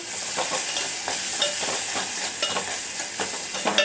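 A spice mixture with turmeric being stirred and fried in a pan, with a steady bright sizzle and close scraping strokes of the spoon throughout, no voices.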